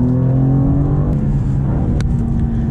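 2023 BMW M2 with a torque-converter automatic braking hard into a track corner, its engine droning loudly and steadily with shifting tonal pitch as it downshifts, close and continuous with no talk.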